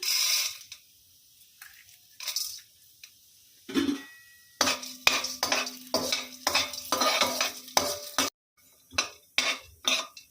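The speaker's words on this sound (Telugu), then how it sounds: "ఆయిల్ వేసుకున్న తర్వాత మినపప్పు వేసుకొని వేయించుకుందాం" Urad dal fries in a spoonful of oil in a pan while a spoon scrapes and stirs it in quick, close bursts over a soft sizzle.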